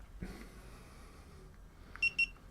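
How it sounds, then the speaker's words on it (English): Two quick, high electronic beeps from DJI drone goggles connecting to an Avata 2 sound close together near the end after a quiet stretch of faint background noise. "Switch. And wait for it to go beep beep."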